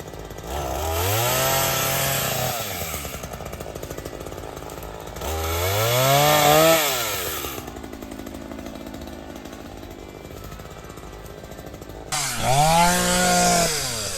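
A Kubota L3302 tractor brush hogging through thick brush and thistles along a trail, its loud engine and rotary cutter roaring steadily, rising and falling in surges as the load changes, with no talking.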